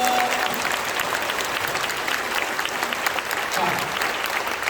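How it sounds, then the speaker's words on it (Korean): A church audience at a prayer gathering honoring Korean War veterans applauds to welcome their local lawmaker, a dense, steady clapping that holds at full strength throughout. "여러분 환영의 박수 해주시면 고맙겠습니다"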